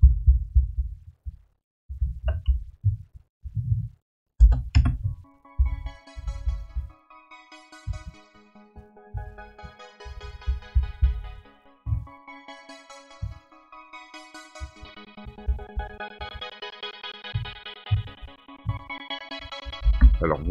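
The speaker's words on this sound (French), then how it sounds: "si on écoute le synthé déjà au naturel, ça va nous donner ça" A synthesizer played dry with no effects gives a run of clean, bright tonal notes that step along in a lively pattern over short, punchy low thumps, with no voices.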